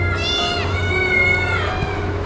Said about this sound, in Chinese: 猫咪交响乐。